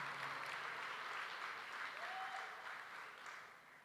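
Audience applause at a right-wing political conference at Expo Tel Aviv: a steady wash of clapping from a large crowd, sustained and even for several seconds before gradually tapering off, somewhat distant and muffled.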